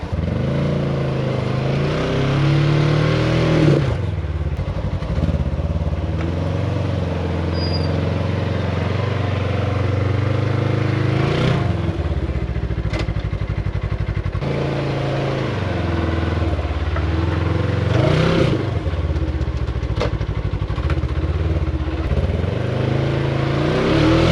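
A 2024 Polaris Xpedition ADV 1000 side-by-side crawls over rough off-road terrain, its engine droning loud and close with rising and falling revs and occasional knocks from the chassis.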